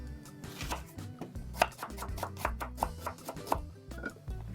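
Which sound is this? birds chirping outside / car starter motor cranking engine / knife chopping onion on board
knife chopping onion on board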